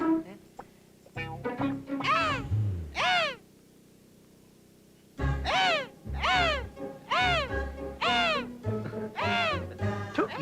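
A man imitates a crow's caw with a run of loud, rising-and-falling nasal calls in two bursts separated by a short quiet gap.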